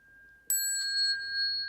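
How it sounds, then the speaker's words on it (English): A bell rings during a Buddhist bell song recitation: one bright strike, then a second lighter tap, each leaving a long, clear, ringing tone with no voices. "We are going to recite the bell song as presented to us by Master Shenhua."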